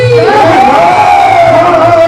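A crowd at a Holi festival at the Khatu Shyam temple in Hansi shouts a jaikara in a loud, sustained chorus of voices with a rising and falling pitch, close and overwhelming.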